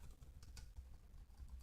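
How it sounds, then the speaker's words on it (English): Soft, scattered keystrokes on a computer keyboard during spreadsheet data entry, faint and irregular with a low hum beneath and no voices. "then begin typing the new name"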